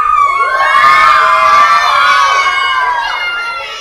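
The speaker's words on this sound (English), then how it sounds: "If you think blue team's gonna win, cheer." Children cheer loudly for the blue team in a crowd during a kids' team event: a dense, continuous wave of shouts and squeals that stays close and full for several seconds, then eases slightly at the end.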